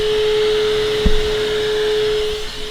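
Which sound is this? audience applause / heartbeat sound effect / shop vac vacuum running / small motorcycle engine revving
shop vac vacuum running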